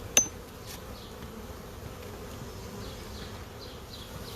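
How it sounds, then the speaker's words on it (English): Honey bees buzzing inside an opened hive, a steady low drone with faint higher whines drifting past and one sharp click near the start. "there's a lot of bees in here"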